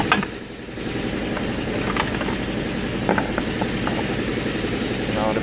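A socket ratchet with a 13 mm socket and extension clicks and grinds while loosening a battery bolt on a Dodge Caravan / Town and Country, steady close mechanical ratcheting over a low background hum.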